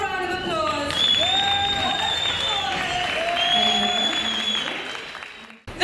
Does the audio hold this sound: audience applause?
yes